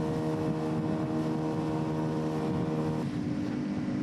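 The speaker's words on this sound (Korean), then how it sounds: "그 시각 마을에서 5대의 배가 출발했습니다" Small fishing boat motoring out from an island village at sea, its engine a steady, loud droning hum with tonal harmonics, shifting slightly in pitch partway through, with no talk.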